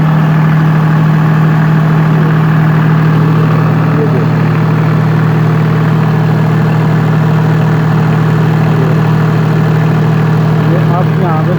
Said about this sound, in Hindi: ये आपके सामने इंजन चल रहा है